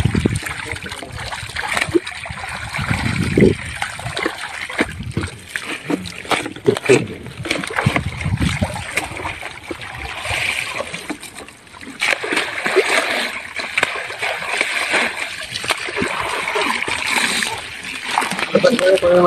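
Jute fibres are washed by hand in water, with repeated splashes and sloshing close by, and voices talking over the work throughout.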